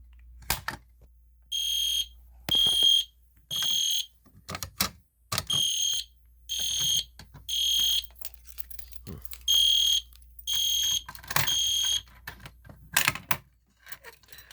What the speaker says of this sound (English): so the Est Genesis horn strobe, that sounds like a cricket